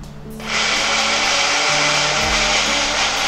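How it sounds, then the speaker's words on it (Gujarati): A mixer grinder jar crushes peanut soup ingredients with water, its motor starting after a brief pause and then whirring loud and steady at close range, shifting pitch slightly as the load changes. "મિક્સચર જારની અંદર પાણી એડ કરીને તેને આપણે પ્રોપરલી ક્રશ કરી લેશું."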